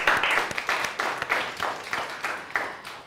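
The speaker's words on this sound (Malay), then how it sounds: "sila beri tepukan kepada kumpulan dua." A classroom of students applauds a student group, with a few loose, uneven hand claps that come in small bursts, close by and moderately loud.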